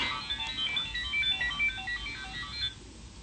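A mobile phone ringtone plays during a live televised sermon, a steady melodic electronic tune repeating for about three seconds, close and fairly loud, with no talking over it.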